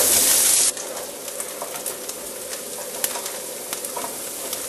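Rice sautéing in a pan for paella, a steady close sizzle and crackle with faint scraping of stirring throughout, after a louder burst of frying at the start.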